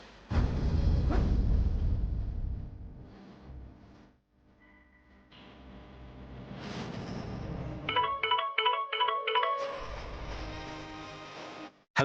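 A telephone rings in a home during a call back to family, a repeating electronic ring pattern in a short burst of about two seconds, following louder background sound and a brief lull.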